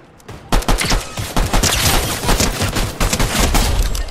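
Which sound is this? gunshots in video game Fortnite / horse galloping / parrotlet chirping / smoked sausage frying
gunshots in video game Fortnite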